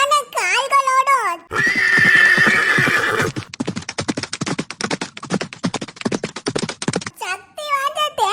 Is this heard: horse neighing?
yes